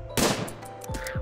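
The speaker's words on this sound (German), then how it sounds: "Ein Schuss." A single gunshot fired in the RimWorld video game, a sharp loud crack that decays over about a second, followed by faint game sounds.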